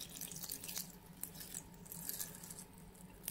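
Water poured into a pot of stuffed vine leaves (yaprak sarma), a quiet steady splashing trickle close by, continuous and without talk.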